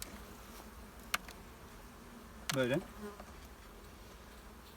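A soft, steady hum of honey bees in an open hive runs underneath, with a few brief clicks and a short spoken word partway through.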